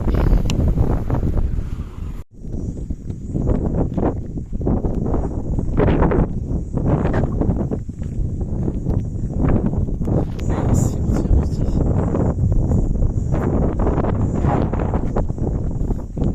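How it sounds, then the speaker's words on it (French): Strong, steady wind on an open plain in the Vietnamese countryside buffets the microphone with a constant low roar and gusty surges, with no voices heard. "Il y a beaucoup de vent en fait, hein, quand t'es sur une plaine comme ça."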